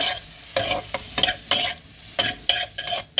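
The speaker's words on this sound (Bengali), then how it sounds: "এবার মশলাটার সঙ্গে এটা ভালোভাবে আমি মাখিয়ে নেব, নেড়ে চেড়ে ভেজে নেব।" Mushrooms coated in chili, cumin and coriander powders fry in a pan under a constant sizzle, punctuated by about ten sharp spatula scrapes and knocks in an uneven stirring rhythm.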